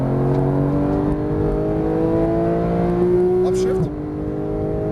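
A Porsche 911 GT3 (991) engine on a track pulls harder as the throttle is rolled on, its harmonic drone climbing steadily in pitch and then easing, heard loud and close under a man's running instruction.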